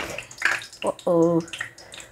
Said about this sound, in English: So I'm gonna add more water because it is thick.